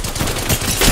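Sustained rapid gunfire in a shooter video game, loud and close, a continuous rattling stream of shots with slight pulsing in intensity and no voices.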